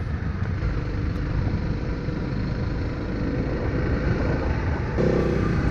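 Honda CRF300L motorcycle ridden on hard-packed dirt, a steady mid-pitched engine drone with wind and road rumble, close and continuous, with no one talking.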